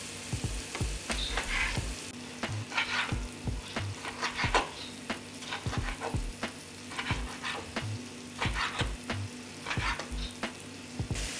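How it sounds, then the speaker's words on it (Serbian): Onion and carrot fry together in a pan, with a steady close sizzle broken by repeated scraping and stirring clatters throughout. "Luk se propržio i dodajem šargarepu i pržim sve zajedno još 2 minuta."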